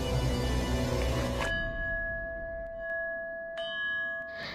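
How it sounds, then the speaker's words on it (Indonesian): A bell rings in a palace, its clear sustained tone struck about three times and left to ring out slowly after a dense, noisy opening. "suara lonceng dibunyikan"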